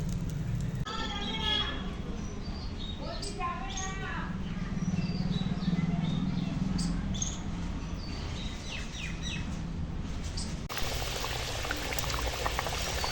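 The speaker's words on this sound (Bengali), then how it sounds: "দেখো তরকারিটা ফুটে গেছে" Vegetable curry bubbling steadily in a pot on a home stove, a continuous simmering boil with scattered bird chirps in the background and a change in tone near the end.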